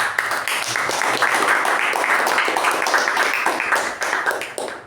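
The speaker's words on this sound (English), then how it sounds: "Let's give a big round of applause to you" A club meeting audience gives a sustained round of applause, with dense, close clapping that holds steady before thinning out near the end.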